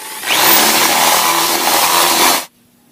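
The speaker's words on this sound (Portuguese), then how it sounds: "Vamos alargar esse buraco aqui então para caber aquela peça lá." A power tool widens a drilled hole so a part will fit, its loud steady whine running for about two seconds before cutting off abruptly.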